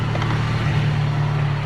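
The engine of an abandoned Volvo 240 runs with a noisy clutch release bearing, giving a loud, steady, close drone over a low, constant hum, with no talk.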